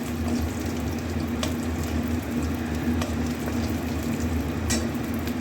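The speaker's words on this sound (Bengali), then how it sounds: "এই ফোড়ন হয়ে গেল, ফোড়নটা একটু ভাজা ভাজা হোক।" Cumin seeds fry in hot oil for a tempering, giving a steady low sizzle with a few sharp crackles and pops, close by and with no speech.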